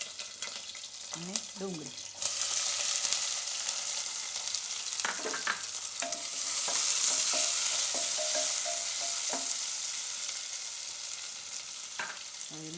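Green chillies and onion frying in hot oil for pasta, a steady close sizzle that rises after a few seconds and holds, with occasional stirring clatter and brief talk over it.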